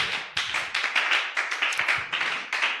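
A church congregation claps together in steady rhythm, about a dozen sharp, crisp claps in quick succession, fairly close and alone without speech.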